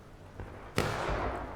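Union cannon fire in a Civil War skirmish video game, two distant booming shots with the second louder, followed by a lingering rumble.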